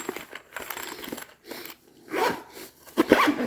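Zipper on a small eyeglass case opened and closed in a few short, scratchy zipping bursts with gaps between them, close and fairly quiet.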